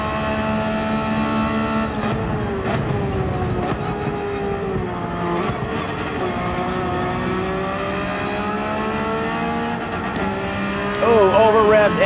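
A Porsche 911 GT3 engine in the Gran Turismo 7 racing game screams at high revs, pitch climbing and dropping through several shifts with a sharp over-rev near the end, loud and steady under continuous game engine drone.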